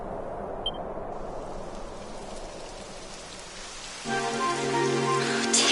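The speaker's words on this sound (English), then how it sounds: "Typical. It would have to go and start raining, wouldn't it?" Rain starts falling in the video game Dragon Quest XI, a steady hiss of rain on surfaces that swells louder toward the end, joined by a tonal musical layer.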